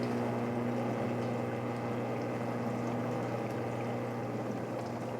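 A small countertop dishwasher runs its fruit-washing cycle with water, giving a steady churning, sloshing wash over a constant motor hum. The sound is moderately quiet, continuous and alone, with no talk.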